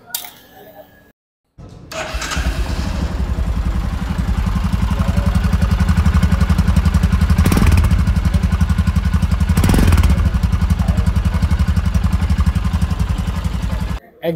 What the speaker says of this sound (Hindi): देखते हैं साउंड में क्या कितना फ़र्क इस बाइक में नज़र आता है।